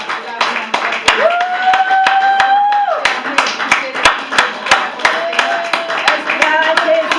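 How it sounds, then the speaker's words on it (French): A church congregation at a Sunday service claps in a steady rhythmic beat, sharp and close. A sustained voice cheers or sings over it, with several voices throughout. "Est-ce qu'on peut acclamer encore?"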